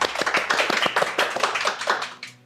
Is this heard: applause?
yes